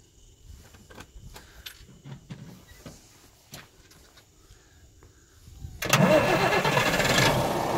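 A farm tractor engine cranks and catches after a stretch of quiet rustling and small clicks, then settles into a loud, steady running rumble close by.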